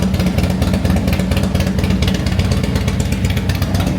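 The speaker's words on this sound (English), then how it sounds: "I got the Harley started. KTM." Harley-Davidson and KTM motorcycles sit running together in a garage, their engines producing a loud, continuous, throbbing idle rumble with no pause.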